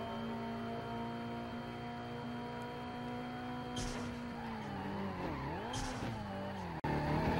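A car drifting in The Fast and the Furious racing game on PS2, its engine note steady and loud with a bending, sweeping pitch as the slide unfolds, ending in an abrupt cut.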